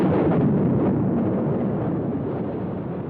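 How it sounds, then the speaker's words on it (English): The first Soviet atomic bomb detonates as a sustained, deep rumbling roar that starts at full force and slowly fades while staying dense and broad throughout. "the Soviets exploded their first atom bomb"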